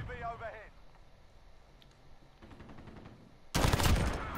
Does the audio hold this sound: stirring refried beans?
no